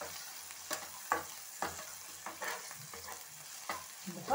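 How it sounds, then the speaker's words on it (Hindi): Veg soya keema with onion, ginger and garlic sizzles softly in a pan while a spoon stirs it in regular scraping strokes, close and fairly quiet, with no voices. "थोड़ी देर से भी भूनते हैं।"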